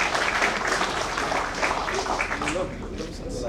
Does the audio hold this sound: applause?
yes